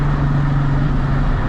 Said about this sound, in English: Sounds loud as fuck near trucks,